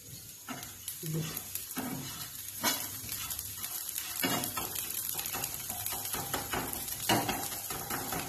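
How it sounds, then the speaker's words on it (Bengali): A steel spatula scrapes and stirs rice and milk payesh in a new pot, giving repeated rough scraping strokes over a steady low bubbling sizzle, close and fairly loud throughout. "এটা দিয়ে ভালোভাবে নাড়া যাচ্ছে না, যেহেতু এটা স্টিলের খুন্তি।"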